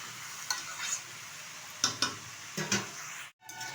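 Malabar spinach stir-fried with spices in a pan, a soft continuous sizzle broken by several scraping stirs of a spatula, close and fairly quiet.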